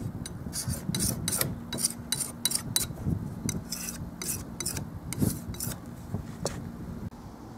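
A wet knife scrapes and smooths putty filler on a wooden tongue and groove garden gate, with repeated short rasping strokes in a steady rhythm, close and moderately quiet.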